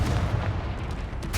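Confringo fire spell explosions in the video game Hogwarts Legacy, a dense rumbling barrage of booms with a sharper blast near the end, loud and continuous.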